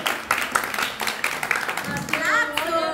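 A small group claps in loose, uneven bursts at a casual gathering, with distinct sharp hand claps rising and falling, while voices chatter and someone speaks underneath.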